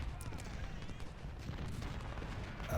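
Artillery in the Ultimate General: Civil War battle game booms in a dense, continuous rumble of cannon fire and musketry, with no voice above it.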